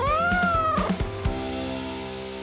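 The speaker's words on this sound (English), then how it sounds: "house cat is Felis catus" A house cat meows in a few drawn-out, rising and falling cries, close and clear, followed by a fading tonal ring.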